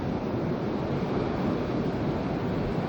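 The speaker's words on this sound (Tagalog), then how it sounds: "Hangin ng malakas yan eh" Strong wind in a Hokkaido snowstorm roars continuously at close range, a dense, unbroken blustering rush with no pauses.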